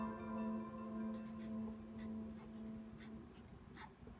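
Writing on a Basquiat-style portrait background, scattered short scratchy strokes over a steady low hum, soft and close, no talk.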